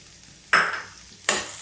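Garlic, green chili and ginger dropped into hot oil for a dhaba-style dal tadka, giving two sharp sizzling bursts that fade quickly, close and fairly loud, with no voices.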